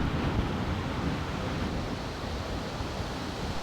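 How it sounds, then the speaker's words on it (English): Steady wind blowing across open foothills in southern Alberta, a continuous rushing roar with gusty rumble and buffeting on the microphone, heard alone without voices. "pretty much always windy."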